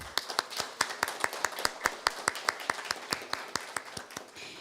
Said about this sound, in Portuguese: Convido a todos os presentes para uma salva de palmas para todas as falas em conjunto.